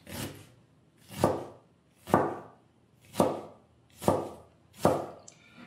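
Six evenly spaced knife chops through onion on a cutting board, each a sharp close thud roughly a second apart, with no talking, while making salsa at home.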